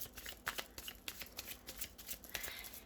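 Oracle cards being handled and shuffled by hand, a quiet run of quick papery riffles and flicks close by, continuous and soft with no talk.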